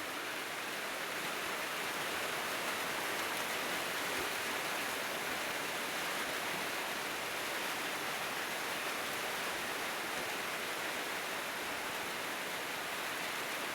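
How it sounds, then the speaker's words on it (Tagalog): Heavy rain pours steadily over Agusan Marsh, a dense, unbroken hiss with no pauses, constant and fairly close, with no voices. "Ang lakas ng ulan."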